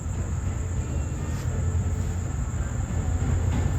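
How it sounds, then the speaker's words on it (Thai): Southern Thai night train number 38 arriving at Surat Thani station, a steady loud low rumble of rolling rail cars at night with faint crickets, no talk. "ขบวน 38 มันเข้าสุราษฎร์แล้วครับ"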